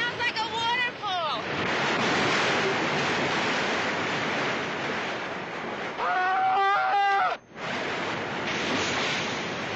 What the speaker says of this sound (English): Henry, it sounds like a waterfall!